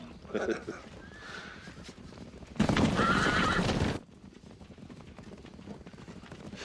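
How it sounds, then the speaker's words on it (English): Horses neigh loudly in a short burst midway, with hooves clip-clopping, while a voice talks in the background throughout. "Horses."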